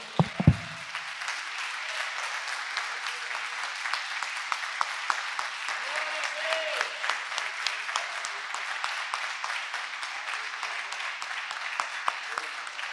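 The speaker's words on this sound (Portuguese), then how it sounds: "Dá uma salva de palmas para ele, meu irmão" A church congregation applauding, dense sustained clapping from many hands that carries on steadily and evenly, with faint voices mixed into the crowd noise.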